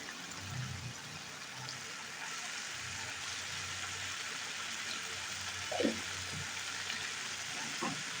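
Vegetables cooking with slit green chillies and turmeric in a pan, giving a steady soft sizzle throughout with a few brief stirring clinks, heard alone without talk.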